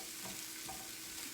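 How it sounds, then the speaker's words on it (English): Sausage is stirred in a hot pan, giving a faint, steady sizzle with a couple of soft scraping strokes over a short moment. "I'm gonna go ahead and give the sausage a stir"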